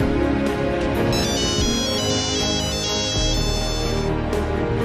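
A telephone ringtone plays insistently in a repeating electronic melody, loud and close, sounding as an unanswered call rings on without any talk.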